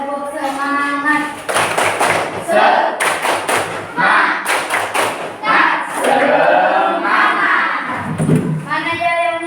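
Schoolchildren in a class group perform a rhythmic spirit clap, bursts of sharp synchronized claps and thumps alternating with chanted voices, loud and close, repeating in patterned groups.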